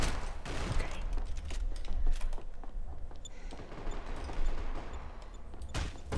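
Gunfire rattles in a Max Payne 3 multiplayer free-for-all match, with bursts of shots and impacts layered over a dense, continuous game soundscape at moderate loudness.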